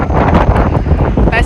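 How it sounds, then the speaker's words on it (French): Strong wind sweeps across open steppe and buffets the microphone with loud, gusting low rumbles that rise and fall throughout. "il n'y a absolument rien pour arrêter le vent"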